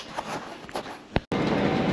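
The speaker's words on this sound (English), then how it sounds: "Just boarding the Eurostar." Steady rumbling Eurostar train noise with a brief thump and a short gap, then a louder, continuous roar of rail travel.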